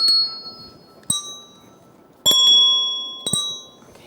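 Handbells ring out one at a time in a music therapy warm-up, four separate clear strikes spaced about a second apart, each with a bright, sustained ringing tone that decays slowly.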